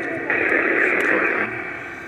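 A burst of radio static hisses for about a second in an old abandoned cemetery, a loud crackling wash of noise that cuts in and out against faint background hiss.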